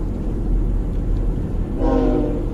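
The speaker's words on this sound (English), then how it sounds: "Oh, I love the freight trains." A freight train rumbles past nearby in Vancouver with a constant heavy low roar, and partway through its horn blares in a loud, sustained tone over the rolling noise.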